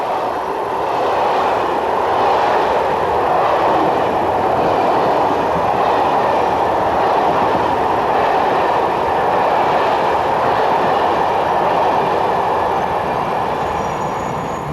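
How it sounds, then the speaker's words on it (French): Strasbourg–Nice train 4297 passing non-stop through a station on track G, a loud sustained roar of rolling stock held steady for the whole stretch, with no voices. "Comme tous les mouvements nord-sud sans arrêt, le 4297 Strasbourg-Nice passe par la voie G."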